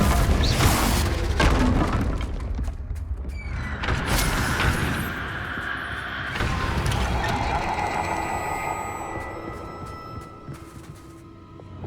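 Confringo fire spell blasts in the Hogwarts Legacy video game, a dense run of loud crackling bursts and mechanical clatter layered over a constant rumbling game soundscape, with no voices.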